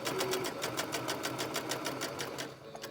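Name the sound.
sewing machine stitching fabric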